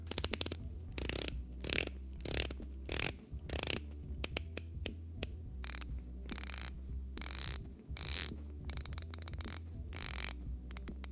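A Seiko watch mechanism clicks in rapid ratcheting bursts, close and crisp, with short gaps between runs of fine mechanical ticks in a quiet room.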